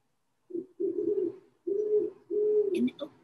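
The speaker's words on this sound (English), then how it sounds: "That's a great horned owl." A great horned owl calls from oak trees in a backyard, giving a series of four low, soft hoots with short pauses between them, heard alone and fairly close.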